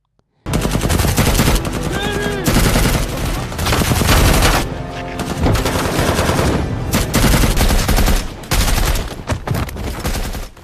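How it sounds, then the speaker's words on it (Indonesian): Sustained bursts of automatic machine-gun fire fill a war film battle scene, loud and dense volleys with brief pauses between them, continuing nearly the whole time. "terdengar suara tembakan"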